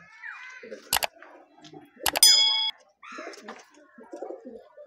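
Soft Giribaz pigeon cooing in short bursts alongside chirpy bird calls and a couple of sharp clicks, fairly close.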